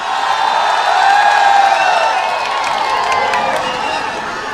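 A large crowd at an outdoor political victory rally in Nayapura, Malegaon, cheers and whoops loudly, a dense roar of voices that swells and then eases slightly.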